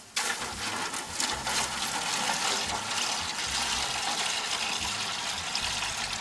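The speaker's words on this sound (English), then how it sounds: "what I want to do is go ahead and get a little bit of water down into my pan" Water pours and splashes steadily into the water pan of a Char-Griller 5050 smoker, a continuous close gushing rush with no voices over it.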